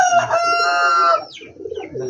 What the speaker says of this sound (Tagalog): kita niyo yung mga ibon natin